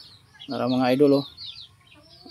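Chickens feeding on ipil-ipil leaves give a short burst of clucking and squawking, fairly close, with someone speaking briefly around it.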